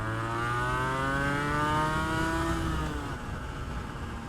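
A 250cc two-stroke V-twin sportbike engine revs hard under load, its pitch climbing steadily as the bike pulls. The nearby engine note is loud and buzzy, and it eases off slightly near the end.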